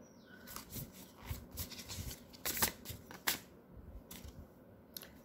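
Tarot cards being shuffled by hand, a rapid papery riffle and rub that swells and fades over several seconds, with a few sharper snaps of cards, close and fairly soft, no speech.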